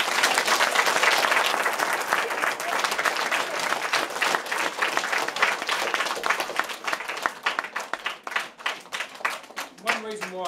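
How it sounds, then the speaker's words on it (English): An audience gives sustained applause for students on their last day at Otautau School. The clapping is dense and steady, thins out toward the end, and a voice briefly speaks over the final moments. "So I think you should give them a round of applause."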